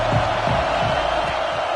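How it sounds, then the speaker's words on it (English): Stadium crowd at a college football game roars in a steady, loud, continuous wash of cheering, with a few deeper shouts rising out of the din. "This crowd ready to make its presence known."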